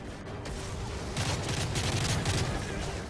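Rapid automatic gunfire in the video game Modern Warfare 3, with dense bursts of shots and loud booms over a constant roar of battle noise, with no pauses.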